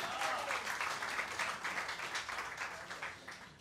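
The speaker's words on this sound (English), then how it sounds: "Big round of applause." A room full of people applauds to honor the legendary Larry Storch at the Metropolitan Room, a steady wash of clapping that holds fairly even before thinning slightly toward the end.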